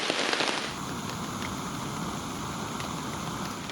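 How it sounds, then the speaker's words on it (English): Light rain falls steadily at a backpacking campsite, a soft continuous hiss of drops with a brief louder patter at the start, with no voices. "I'm going to go ahead and enjoy this little bit of rain coming down"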